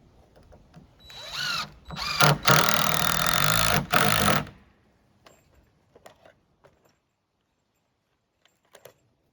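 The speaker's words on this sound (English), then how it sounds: "I'm going to line this up, put a screw." A power drill drives a screw into a wall board during an off-grid cabin build, whining up and running steadily for about three seconds with a couple of brief pauses, then scattered light knocks.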